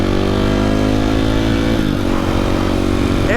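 Supermoto motorcycle ridden along a sidewalk and road, its engine droning steadily and loud up close with a brief shift in pitch partway through, no talking.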